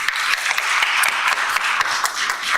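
Audience at a high school admissions information session clapping for a student presenter, a lively spatter of many hands with distinct individual claps, moderately loud and steady throughout.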